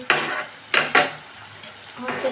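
Tomatoes fry in a pan while a utensil stirs them, three or four loud scraping bursts over a faint sizzle in a home kitchen.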